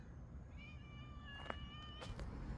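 A cat meows in a long, drawn-out call followed by shorter meows, fairly faint against a steady background hiss; nobody talks.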